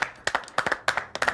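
Children clapping after a shadow puppet show, four short bursts of quick claps, fairly close and alone.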